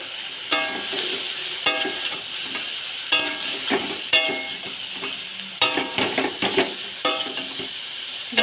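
Slit green chillies and turmeric fry in a pan with a steady soft sizzle, broken up by repeated sharp scrapes and clinks of a spatula stirring at irregular intervals, fairly quiet and close, with no voices.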